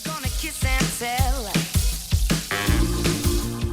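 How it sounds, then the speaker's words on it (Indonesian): Beef lung frying until dry in a pan, a sizzling crackle running underneath a person talking throughout. "Pertama kita goreng dulu nih parunya sampai benar-benar kering."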